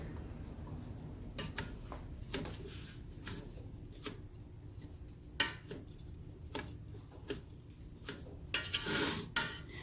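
Sliced bitter gourd is tossed with a little turmeric in a bowl, making quiet, scattered clinks and rattles of the bowl and pieces at an uneven rhythm, with a fuller shuffle near the end.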